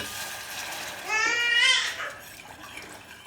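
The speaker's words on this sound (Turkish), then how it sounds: "Şimdi suyunu da koyayım." Water is poured into a cooking pot over tomato paste for tarhana soup. A short pour of about a second rises in pitch as the pot fills, over a low background hiss.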